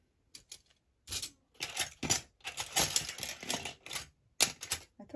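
Small metal key charms for a handmade no-sew journal clink and jingle close by in a series of short bursts separated by brief pauses, with no talk over them.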